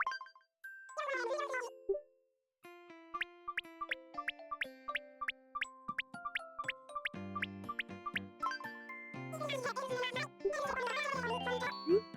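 The in-game clock chime of Animal Crossing: New Leaf marks the hour with a bright, bell-like melody of plinking tones that rise and fall, then swell into fuller chords near the end.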